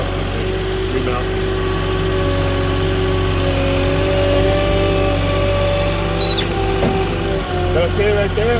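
A forklift or truck engine runs at a construction site in Yucca Valley, a loud, steady droning rumble that continues throughout with slight swells, and voices are heard faintly beneath it.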